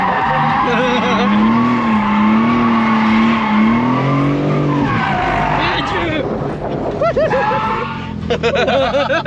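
A 700-horsepower BMW M4 does a burnout, its tires shrieking in a loud, sustained squeal over a roaring engine whose pitch rises and falls, with a crowd murmuring in the background.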